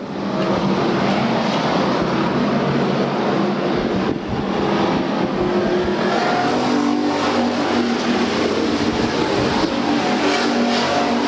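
Race cars roar back up to speed on a restart at the Bakersfield oval, a dense, loud wall of engines revving and passing with a brief dip before surging again, no commentary audible over them.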